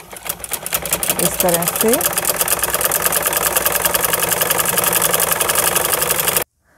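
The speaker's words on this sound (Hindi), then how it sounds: "अब इसके बीच में हम इस तरह से सीधी लहरी की एक सिलाई लगाएंगे" A sewing machine runs steadily, stitching a straight wavy line into the hem of a salwar. The motor hum is loud and rapid and continues without a break until it stops abruptly near the end, with a brief voice speaking briefly over it.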